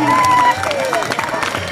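Crowd applause breaks out at a school event during a state-level maths olympiad and district yoga olympiad. The clapping is brief and fairly loud, with a speaking voice heard over it.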